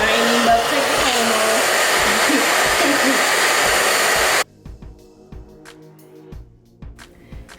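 A hair dryer blows loudly and steadily on a wig being colored auburn, running alone for about four and a half seconds, then cuts off abruptly, leaving quiet handling clicks and taps.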